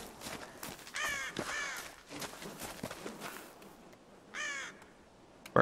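A crow caws repeatedly in Tomb Raider, harsh close calls in two bursts separated by a pause, with faint footsteps and rustling underneath and no speech.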